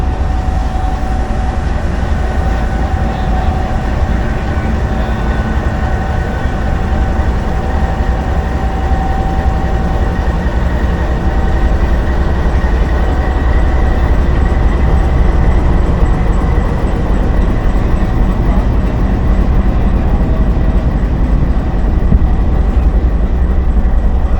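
A railcar departing Lahore station rumbles steadily with a heavy low engine drone and constant rattling of the cars, loud and close, running without pause.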